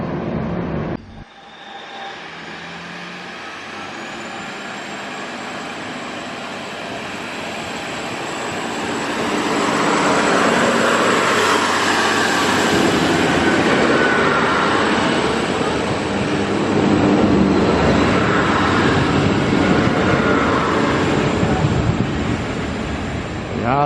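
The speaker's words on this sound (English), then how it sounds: "Here comes the little two-car DMU coming in from Muswellbrook" A small two-car diesel multiple unit rolls into Picton station, a steady broad engine and wheel rumble building slowly and staying loud throughout, with a faint high whine above it.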